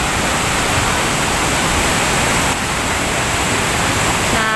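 Bantimurung waterfall, roughly 35 meters high, roars as a loud, unbroken rush of falling water that fills the whole recording with no other sounds breaking through.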